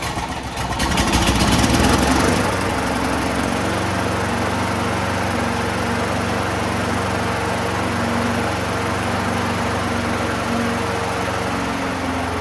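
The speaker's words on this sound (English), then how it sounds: "We're going to start." A 1990s Toro GTS rear-wheel-drive lawnmower engine cranks and catches, then settles into a steady, loud, close running drone that continues evenly to the end.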